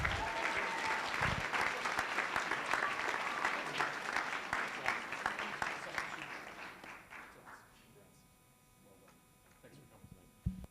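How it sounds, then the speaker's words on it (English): Audience at a board of education meeting applauds, sustained dense clapping filling the room for several seconds before thinning out and fading to a quiet tail with a few stray claps. "one more round of applause for these gentlemen"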